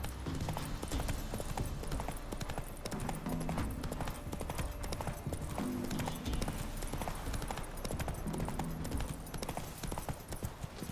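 Horse hooves clip-clop steadily in The Witcher 3: Wild Hunt, an even trotting rhythm over continuous ambient game sound, with no talk.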